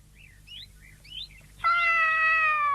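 A cat gives a long, loud meow close by, after a few faint, short chirpy sounds, in a quiet room with no talking.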